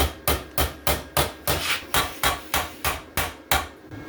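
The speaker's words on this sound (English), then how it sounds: "Putting this in the vise, you can tap these around until these corners are flush with each other and not stepped" A hammer tapping a metal motorcycle exhaust bracket clamped in a vise, about a dozen evenly spaced sharp ringing blows close up, steady rhythm, no voices.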